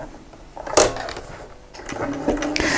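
A sewing machine runs a zigzag stitch along a raw fabric edge, whirring and clattering steadily at close range for a few seconds, with uneven mechanical bursts.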